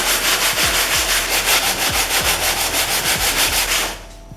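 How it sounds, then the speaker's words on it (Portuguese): Sandpaper worked by hand over a refrigerator's surface in steady, rapid back-and-forth strokes, loud and close, with faint low knocks under the rubbing, stopping abruptly near the end. "Fazer o lixamento na mão."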